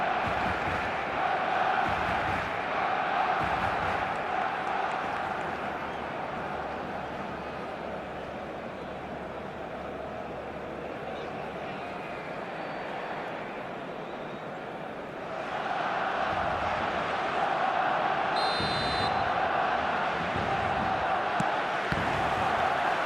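Stadium crowd noise from an eFootball match, a dense continuous roar with surging swells near the start and again after a brief lull midway, a whistle-like tone briefly cutting through.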